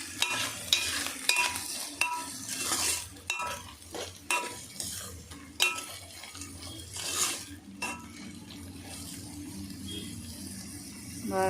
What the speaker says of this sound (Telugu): ఇదిగోండి ఇది వేగుతున్నాయిగా. ఉల్లిపాయ పచ్చిమిర్చి వేసుకున్నాం.